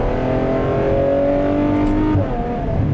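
Ferrari F12 Berlinetta V12 engine revving hard in second gear, a loud, steady rising roar with climbing harmonics that dips briefly near the end as it shifts, heard close up with no talking.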